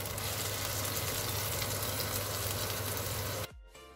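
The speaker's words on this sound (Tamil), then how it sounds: "ஸோ இது 2 to 3 நிமிஷம் நல்லா இந்த வெங்காயத்தை நல்லா ஃப்ரை பண்ணி கொடுங்க" Onions frying in a pan, a steady loud sizzle filling the space before cutting off abruptly near the end.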